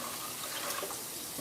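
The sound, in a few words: water being added to a pot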